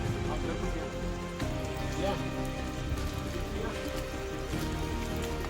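Steady, dense rain patters across surfaces, with faint voices murmuring beneath the downpour.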